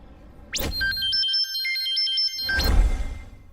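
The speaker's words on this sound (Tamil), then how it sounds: "ஒரு நிமிஷம் ஃபோன் கொடு" A mobile phone rings close by with a bright electronic ringtone melody, framed by handling knocks and rustling just before and after.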